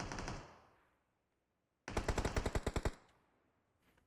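Gunfire in the mobile battle-royale game PUBG Mobile on the Livik map: a short burst fades out, then after a pause about ten loud, evenly spaced automatic shots ring out in a rapid string, trailing into faint distant noise.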